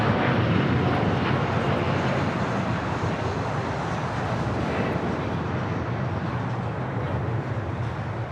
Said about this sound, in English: This is Latam Airlines 8087 taking off to Sao Paulo, Brazil on a 787-9 Dreamliner.